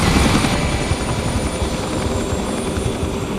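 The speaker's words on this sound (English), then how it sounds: "As helicopters come and go, Brandy pitches in, bringing food to the pilots." Army rescue helicopters come and go during a hurricane, with a loud, continuous rotor thrum and engine roar that holds steady throughout.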